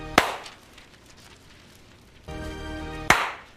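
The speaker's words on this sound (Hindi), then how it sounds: "ट्रांजिशन वाली ताली बजा देते हैं" Two sharp, loud hand claps about three seconds apart, each a crisp single crack, with quiet between and a brief humming tone just before the second clap.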